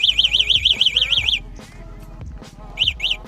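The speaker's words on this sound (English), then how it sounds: "this buzzer symbol is to find your bike in the parking lot" An electric scooter's locator buzzer beeps in a quick warbling rising-falling pattern, stops, then sounds briefly again, close and loud over faint background noise.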